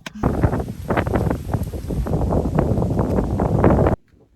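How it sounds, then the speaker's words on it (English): Strong wind buffets the microphone outdoors on Dartmoor, a loud, continuous roar with gusty surges for about four seconds before cutting off abruptly. "it's seriously windy"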